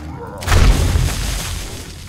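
A demolisher zombie exploding in the video game 7 Days to Die, a single loud deep boom with a heavy low rumble that decays over about a second and a half.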